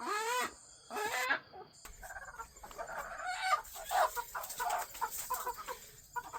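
Chickens in a new pen, clucking and cackling in a busy, overlapping flock with a couple of louder calls near the start, fairly close and without talk.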